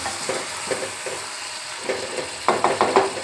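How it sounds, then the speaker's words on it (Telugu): A spoon stirs tomato pieces into a prawn curry sizzling in a pan, scraping and clacking in short repeated strokes over a steady frying hiss, close by and loudest near the end. "టమాటో ముక్కలను కూడా యాడ్ చేసుకొని బాగా మిక్స్ చేసుకుందాం"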